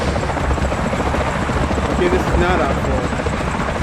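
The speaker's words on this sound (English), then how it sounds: "Despite the helicopter intro." Helicopter rotor thrum from the opening sequence of the video game Island 359, a steady dense drone running throughout, with someone talking over it.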